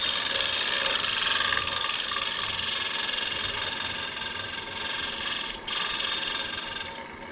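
Chestnut wood being scraped down by hand to fit a bowl in a wood shop, a steady close rasping scrape running almost continuously with one brief break near the end.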